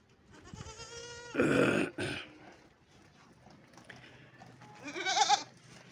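A castrated male goat with two adult teeth bleats several times, wavering and nasal, with louder calls near the start and end, close by in a quiet outdoor setting.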